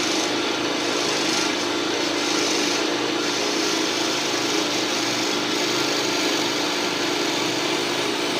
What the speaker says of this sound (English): Run your lathe about 900 to 1200 RPM. Go nice and slow. This is burl.